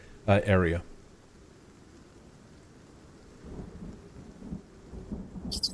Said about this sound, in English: Thunder rips through. Rain threatens the immediate area.